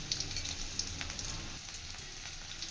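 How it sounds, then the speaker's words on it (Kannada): Chopped onions with mustard seeds and green chillies frying in a pan for a pumpkin and field bean stir-fry, a soft continuous sizzle with faint crackles, quiet and steady. "ಸ್ವಲ್ಪ ಈರುಳ್ಳಿನ ಫ್ರೈ ಮಾಡ್ಕೋಬೇಕು"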